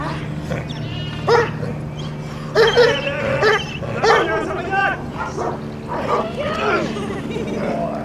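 A dog at a rabies clinic gives repeated short barks and yelps, loud and close, in bursts amid a busy crowd with people talking.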